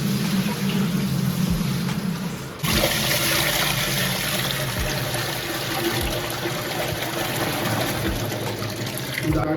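Water poured into a home fish tank over gravel and sand during aquarium setup, a steady close splashing and gurgling that runs throughout, with a brief dip and a fuller pour after the first few seconds.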